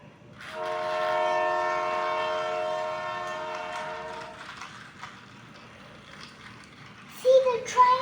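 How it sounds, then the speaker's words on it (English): A train approaches with a long, loud horn blast that sustains for several seconds and then fades into rumbling, with a voice briefly heard near the end. "See, the train is coming!"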